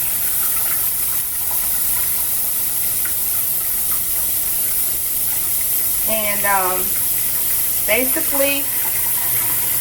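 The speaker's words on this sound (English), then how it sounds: "So I go ahead and put some water in here." Water runs steadily into a crock pot set up for cooking turnip greens with pigtails. It makes a continuous hissing stream with a few brief spoken words on top.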